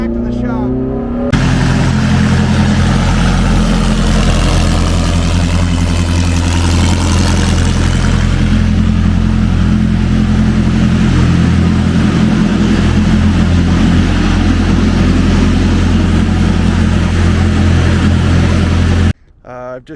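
A Ferrari 430 Challenge GT3 race car drives on a public street, its engine a loud, continuous low drone with steady revs close by, someone talking over it briefly at the start.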